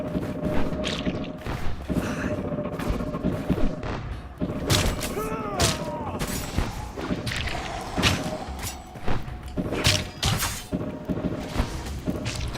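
Cannons fire in the video game Legacy of Kain Ascendance: heavy thuds and booms repeat irregularly through a loud, busy game soundscape with whooshes and crashes, and a voice talks over it.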